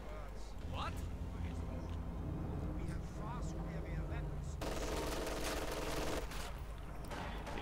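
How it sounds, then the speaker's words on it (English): Gunfire in the World War II strategy game Company of Heroes 2, bursts of machine-gun and rifle fire with vehicle rumble behind, under a commentator's continuous talk. "Shooting."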